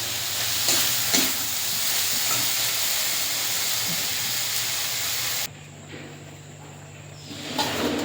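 Eggplant in a spiced mustard fish curry is stirred in a hot pan, with a close, continuous sizzle and hiss that drops suddenly to a quieter simmer with light scraping.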